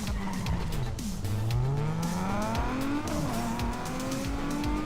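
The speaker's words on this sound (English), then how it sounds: "That downshift noise, it goes like it's grumpy." A Tesla Model 3 engine note dropping in a downshift, a sustained droning hum whose pitch slides down then climbs again, steady and close, with tire and road noise underneath.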